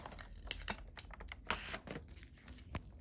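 Paper being folded for insect origami: close, quiet crinkles and soft taps as the sheet is creased and pressed, in irregular bursts with no talking.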